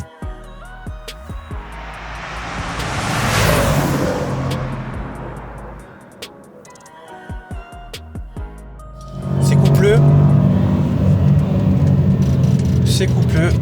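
A Range Rover SVR SUV with a 575 hp engine revs up and swells loudly, eases off, then roars again at sustained high volume, with crackling exhaust pops behind it.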